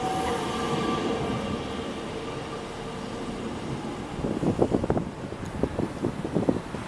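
A South Shore Line interurban commuter train in Chicago rumbles steadily past, with rhythmic wheel clatter over rail joints growing louder toward the end and faint squealing above the low roar.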